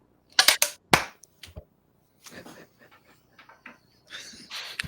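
Sharp hand claps used as a sync mark while recording an aviation podcast, two loud crisp claps near the start followed by scattered quieter clicks, thumps and breaths in a quiet room.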